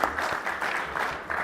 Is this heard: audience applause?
yes